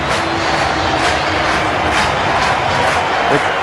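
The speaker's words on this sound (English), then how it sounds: "the crowd now, they are definitely back into it" A stadium crowd at an NFL football game between New England and Indianapolis roars in a loud, sustained wash of cheering that fills the whole moment.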